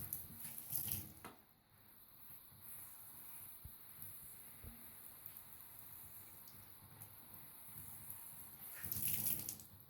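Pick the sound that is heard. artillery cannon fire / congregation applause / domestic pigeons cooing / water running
water running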